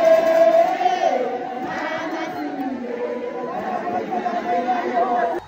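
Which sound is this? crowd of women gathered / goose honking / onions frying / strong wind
crowd of women gathered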